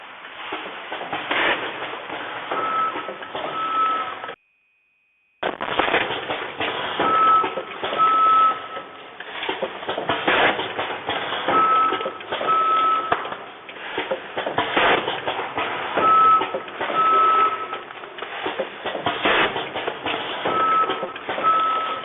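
Automatic weighing and filling machine for dry beans running steadily, a continuous mechanical drone with rhythmic rattling pulses and recurring short electronic beeps, broken once by a brief gap near the start.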